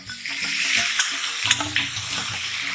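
Radish sautéing in coconut oil in a hot pan gives a steady close sizzle, with a few stirring clinks and scrapes breaking through.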